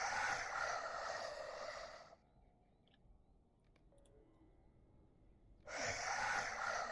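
A non-player character in Lord of the Rings Online breathes heavily with a growling edge, two long, loud, rasping breaths close up, separated by a few seconds of near silence.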